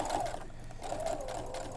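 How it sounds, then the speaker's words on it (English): A sewing machine stitches steadily at close range in a craft studio, its whirring motor running continuously with a brief dip in the middle and no talk over it. "So when you're sewing with a sewing machine,"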